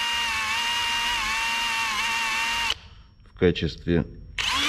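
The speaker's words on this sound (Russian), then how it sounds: "И теперь делаем отверстие" Power drill boring a hole into the wooden handle of an antique teapot wrapped in leather, a steady whining drill run that stops abruptly, followed by someone speaking Russian and a brief restart.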